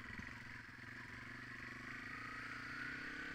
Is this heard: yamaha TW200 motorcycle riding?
yes